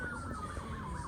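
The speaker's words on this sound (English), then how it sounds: "Excuse the background noise, the police are after somebody." A wailing police siren rises and falls in the distance over low background rumble, faint and continuous throughout.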